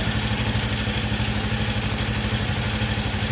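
A Kawasaki Eliminator motorcycle idles close by, its engine giving a steady, loud, even throb with a fast regular pulse and light mechanical clatter, heard alone.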